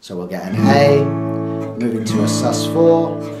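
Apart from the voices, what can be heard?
No everyday noises stand out.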